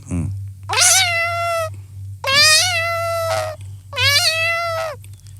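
A human voice imitates a cat, giving three drawn-out meows separated by short pauses over a low steady hum.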